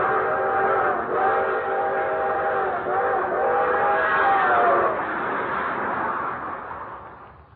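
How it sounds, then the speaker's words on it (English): A long, drawn-out steam whistle from the 20th Century Limited passenger train highballing through the countryside sounds loud and sustained in layered harmonic tones over rumbling running noise, then fades away at the end. "the long, drawn-out whistle of the 20th Century Limited as she highballed it through the countryside"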